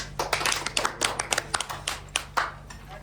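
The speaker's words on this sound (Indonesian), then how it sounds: "Tepuk tangan dong" Classmates clap for a student group after their microteaching presentation, a small scattered round of distinct hand claps with uneven rhythm, close and fairly crisp, in a quiet classroom.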